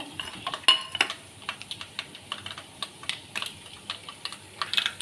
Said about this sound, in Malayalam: കടുക് പൊട്ടി കേട്ടോ